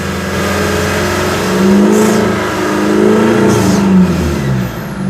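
A 2016 Isuzu D-Max pickup truck engine revs up loudly to 3,000 rpm and holds a high rumbling drone, rising and falling slightly, close by with no talking.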